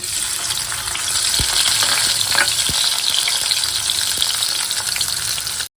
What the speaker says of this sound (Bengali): এই যে পেঁয়াজটা ভাজা হয়ে গেছে